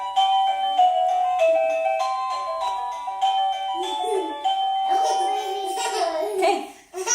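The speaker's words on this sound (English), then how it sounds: "you could set that on as your doorbell ring" An Avantek DT52 wireless doorbell chime plays an electronic melody of clear, bright tones, loud and close, with a voice babbling over the latter part.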